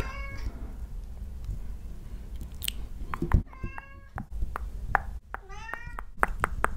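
A house cat meows several times in short, rising calls, close to a microphone, with soft clicks and mouth-like noises between them.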